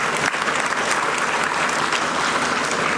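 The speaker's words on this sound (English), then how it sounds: "Kindly give them a big round of applause." Audience at a university convocation ceremony applauding, a dense, loud, sustained wash of many hands clapping that fills the hall evenly without pause.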